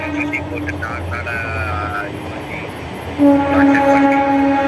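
A train passes on a railway track right beside a building in hilly country, a loud rumble with drawn-out horn tones that swell suddenly partway through, heard close by.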